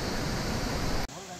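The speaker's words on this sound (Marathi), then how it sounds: "खतरनाक आवाज आहे पाण्याचा." Steady broadband roar of water from Kalmandavi waterfall in Jawhar, constant and enveloping before it cuts off abruptly near the end to a quieter background.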